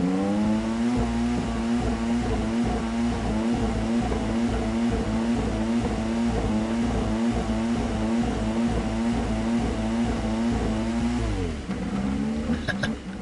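A Peugeot race car engine in Gran Turismo 7 roars steadily and loudly at high revs, with harmonic engine tones holding for about eleven seconds before dropping through a gear shift and climbing again.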